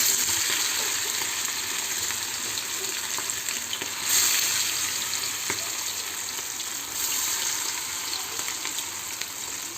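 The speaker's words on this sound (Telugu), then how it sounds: "నేను ఫిష్ నిన్న తీసుకొచ్చాము కదా, అవి ఫ్రై చేస్తున్నాము." Marinated fish pieces fry in a pan with a continuous bright sizzle and crackle, steady and close, with a few small clinks and no talking over it.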